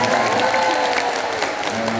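An audience at a religious gathering in Hong Kong bursts into steady applause for a friend called Anja. The clapping is dense and continuous across the whole stretch, with faint voices mixed into the crowd noise.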